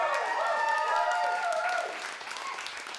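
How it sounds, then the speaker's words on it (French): A studio audience at a French-language comedy TV taping applauds loudly, with a burst of clapping and cheering voices that slowly tapers off toward the end. "Tout le monde, applaudissez-vous!"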